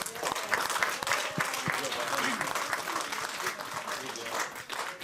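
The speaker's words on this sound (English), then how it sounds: "we should all give a round of applause to ourselves for doing that" An awards ceremony audience claps steadily, a dense crowd applauding with some individual sharp claps standing out, while a voice talks over it throughout.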